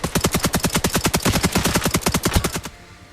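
Rapid automatic gunfire in a shooter video game, a steady stream of around twenty loud close shots in quick rhythm, stopping abruptly near the end with only a faint tail left.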